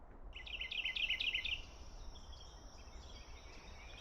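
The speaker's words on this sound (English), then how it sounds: "Just the birds chirping." In a quiet pine forest, a bird gives a quick run of bright chirps early on, then fainter calls trail off against a soft, still background.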